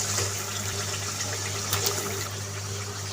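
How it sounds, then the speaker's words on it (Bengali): Washed country chicken is tipped into cooked curry masala in a pot, giving a continuous wet rushing sizzle and watery splash that stays loud and even throughout, with a couple of brighter spatters midway. "এখন দিয়ে দিব ধুয়ে রাখা মাংস।"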